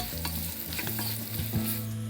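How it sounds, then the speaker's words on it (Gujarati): A spoon stirs unpeeled-potato curry with garlic and red chili paste in a kadai, scraping steadily over a soft sizzle with low tonal hum underneath, close and continuous without voices. "ત્યારબાદ આપણે બનાવેલી લસણ અને લાલ મરચાંની પેસ્ટ ઉમેરીશું અને ફરી એકવાર બરાબર મિક્સ કરી લઈશું."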